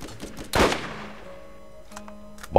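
A gunshot in the video game Borderlands 2: one loud, sharp blast with a decaying tail, then a steady electronic hum, a few faint clicks and a second abrupt burst at the very end.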